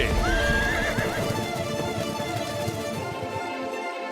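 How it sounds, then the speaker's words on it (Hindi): Horse hoofbeats clatter steadily with a neigh or whinny at the start, loud and close, filling the whole clip without any talk. "ये घोड़े की टापों की आवाज कहां से आ रही है?"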